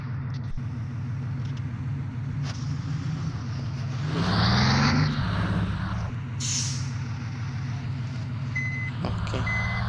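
A bus on a Wayanad trip rumbles with a steady engine drone and a hiss of air brakes, while a couple of thin, high reversing beeps sound faintly near the end.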